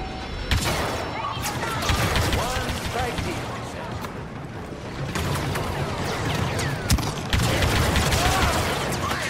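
Gunfire in the video game Star Wars Battlefront II, a steady stream of blaster shots and bursts under a game soundtrack with spoken dialogue throughout.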